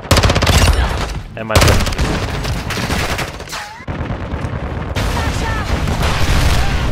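An RPK machine gun fires in Call of Duty Modern Warfare 2 multiplayer: loud, rapid automatic bursts with short pauses between them, while someone speaks briefly over the gunfire.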